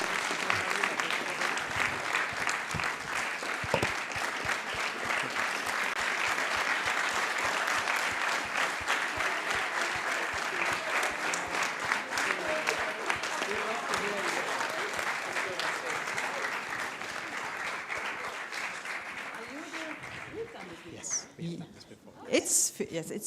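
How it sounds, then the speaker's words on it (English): A school audience applauds members of the European Parliament with sustained, dense clapping that holds steady for about twenty seconds before thinning out and fading. "So let's give a big round of applause to our current members of the European Parliament."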